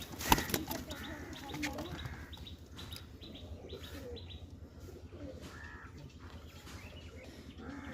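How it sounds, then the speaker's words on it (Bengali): Pigeons, pure-bred birds with raw-turmeric yellow eyes, flap their wings in a burst near the start, then give soft, repeated chirps and low coos over steady background noise, with no voices. "কত সুন্দর দেখেন পায়রা।"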